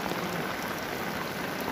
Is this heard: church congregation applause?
no